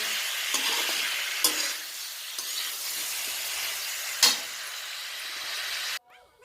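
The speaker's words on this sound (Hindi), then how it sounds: "ये देखो अभी फ्राई हो रहा है आलू गोभी" Steady sizzling of potatoes and cauliflower frying in a pan, with occasional stirring clanks and scrapes, close and continuous, ending abruptly.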